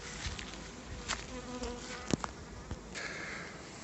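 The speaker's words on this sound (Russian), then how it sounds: "вот одна пчелка какая-то ко мне примастырилась. То сядет на меня, понюхает, потом улетает." A single bee buzzes faintly around a beekeeper working among the hives during hot weather, its hum rising and fading as it circles close and moves off.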